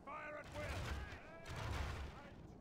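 Troops in the Third Age Total War strategy game fire a volley, a quick crackle of overlapping shots that swells, dips and comes again, heard faintly under a voice and game sounds.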